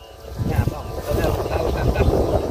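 Strong gusting wind, roughly force 10 to 11, buffeting a microphone outdoors while a large 5 m fabric kite fitted with nine whistles flies, a loud rumbling roar that swells and persists throughout.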